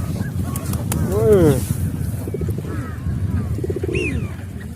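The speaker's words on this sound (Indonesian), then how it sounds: "Japati itu." Pigeons coo close by in short, warbling rolls over a murmuring background, with a few other faint bird calls scattered between.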